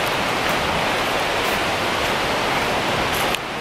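A creek along a hiking trail near a trestle rushes steadily, a dense, even wash of flowing water filling the whole moment with no voices.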